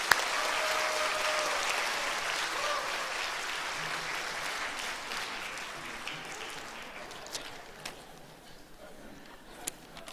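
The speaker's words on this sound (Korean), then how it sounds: "우리 꽁트팀에게 큰 박수 한번 부탁드립니다." A church congregation applauds warmly after a comedy skit at a Christmas worship service, strong at first and then gradually fading, with a few scattered late claps near the end.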